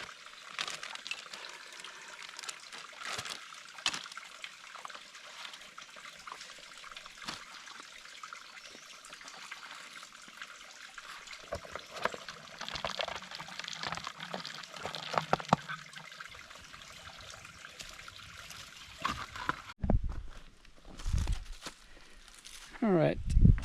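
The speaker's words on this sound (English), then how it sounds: "Came across a water source." Stream water trickles at a trail water source on the Ouachita Trail, a soft continuous babble with scattered splashes and handling noises, ending in louder rustling close by.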